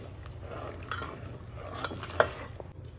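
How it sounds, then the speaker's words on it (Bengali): Milk simmers in a pot with a bay leaf and cracked cardamom while a spoon stirs it. There is soft steady scraping and a few sharp metallic clinks against the pot, with no talking. "নেড়ে চেড়ে দুধটাকে জাল করে নিচ্ছি"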